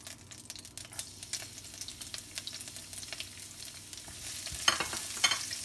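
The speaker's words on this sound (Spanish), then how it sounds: "aquí le vamos a poner un poquito de aceite para guisar el ajito, la cebolla y el chile" Garlic, onion and chili sizzle in oil in a pot for a Chinese-style chicken with jalapeño dish. The frying crackles softly and steadily, with a few scraping stirs and clicks near the end and no talking.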